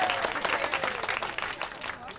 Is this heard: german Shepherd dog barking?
no